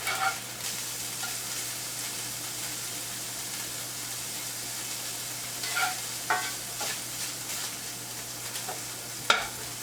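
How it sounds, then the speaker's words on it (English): Loud, steady sizzling of meat frying in hot butter in a pan, with a few brief scraping stirs and clatters near the end. "I hear the sizzling over here."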